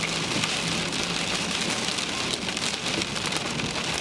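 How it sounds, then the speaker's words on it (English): Hail and heavy rain pelt a car during a thunderstorm chase in Merriam, Kansas, a loud dense continuous clatter with no voices. "Oh, we got some hail, alright."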